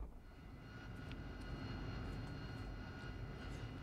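An AV-8B Harrier jet's engine in the DCS World flight simulator, during an air-to-air refueling mission over the Persian Gulf. The engine gives a steady, faint, unbroken turbine roar with no speech.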